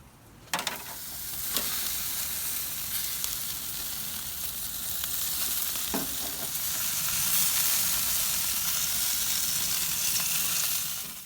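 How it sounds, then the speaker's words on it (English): Vegetables sizzling on a hot barbecue grill at about 400 degrees, giving a loud continuous hiss with a few clanks at the start and another partway through. "I'll bring my vegetables out and put it on the grill,"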